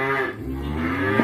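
A single close, drawn-out cow moo, low and resonant, filling the whole moment.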